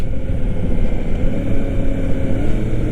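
A 1000cc motorcycle rides along with its exhaust droning loud and close, a continuous low, throaty rumble with slight pulsing and no talk over it.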